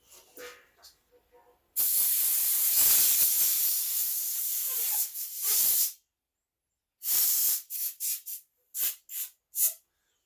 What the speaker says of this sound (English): I'm hit with a little brake clean here. A little air.